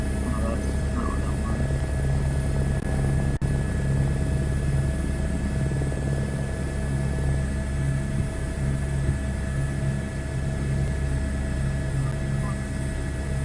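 A helicopter idles with its rotor turning in Microsoft Flight Simulator 2024, a steady low droning hum with a pulsing rotor beat and a constant whine above it, level throughout.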